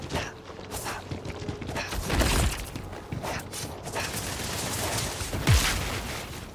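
Companion Vasco firing a gun in a video game, bursts of gunfire and mechanical clatter scattered through a busy combat soundscape, moderately loud with sharper hits near the middle and end.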